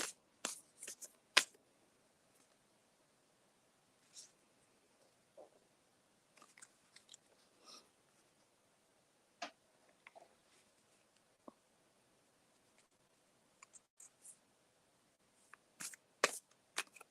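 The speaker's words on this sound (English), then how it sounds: "Let me shuffle for Renee Marie" Quiet, sparse clicks and soft riffling bursts of oracle cards being handled and shuffled, irregular and close, with long silent gaps between flurries.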